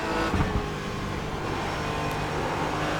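A Porsche Cayman GT4 accelerates at Sonoma in iRacing, its engine a dense, steady roar that builds under power with no pauses.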